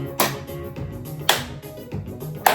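Hands clapping in a seated chair exercise class for Parkinson's, sharp claps in a steady rhythm, about four crisp strikes spaced roughly half a second to a second apart, close and clear.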